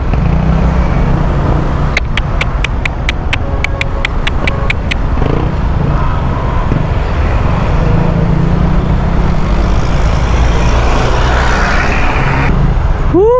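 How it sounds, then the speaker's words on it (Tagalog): Big trucks and other vehicles rolling through busy road traffic, a constant loud roadway roar with a brief run of sharp, evenly spaced ticks early on. "Lalaki ng truck."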